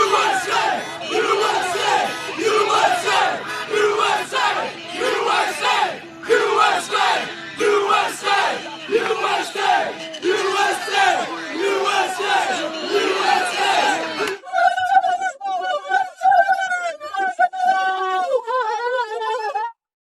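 A crowd chants USA in loud, rhythmic repeated bursts of massed voices, then the chanting cuts off and a thinner, higher-pitched sound continues briefly.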